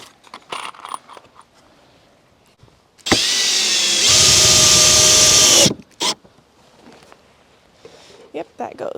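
A cordless drill drives screws into a wooden window box in one loud whirring burst of about three seconds, rising in pitch partway through, with a speaking voice and small handling noises before and after.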